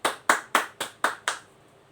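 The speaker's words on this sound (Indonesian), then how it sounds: "tepuk tangan untuk kita semuanya" An audience of mothers at a parenting talk claps in unison: six sharp, evenly spaced claps about a quarter second apart, then quiet.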